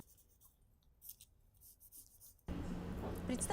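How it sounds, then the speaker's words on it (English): A neckline being drawn onto a sewing pattern: faint, scratchy strokes come in short irregular bursts, and a louder steady rustling noise follows partway through, with no voices. "Watch the way I'm drawing it."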